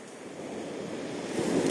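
Stormy autumn sea surf on the Yalta shore, a steady broad wash of breaking waves that swells slightly louder toward the end, with some wind, no voices.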